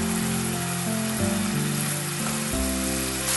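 Tomato sofrito sizzles in a pot while a chickpea and macaroni stew is being prepared, giving a continuous bright hiss like frying, with sustained steady tones running underneath.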